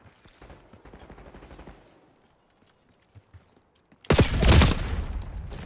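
A PM Makarov pistol firing in Call of Duty: Black Ops 6, faint pops early on, a quiet gap, then a loud close burst of shots that trails off.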